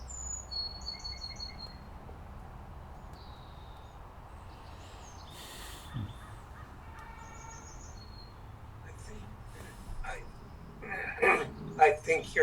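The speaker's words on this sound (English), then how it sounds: "Lots of birds right now." Outdoor birdsong, scattered chirps and short whistled phrases at a distance, thin and intermittent over a steady background hiss, with people talking briefly toward the end.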